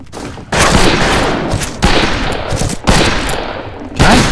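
Gunfire in the western shooter game Fistful of Frags, loud sustained bursts of shots in several dense volleys with short gaps between, close and overwhelming.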